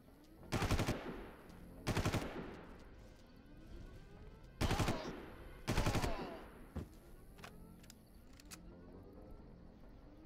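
Machine gun fire in the video game Far Cry 1 comes in four sharp, loud bursts, each under a second, with quieter ambient game sounds and faint clicks between them.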